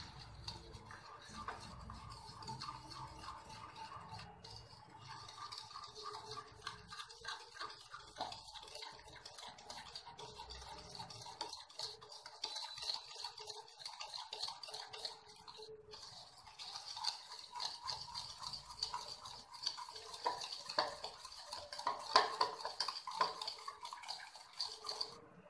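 Vanilla cake batter with sugar and refined oil being mixed and beaten in a bowl, giving soft, irregular wet sloshing and tapping strokes that carry on steadily and quietly, with no one talking.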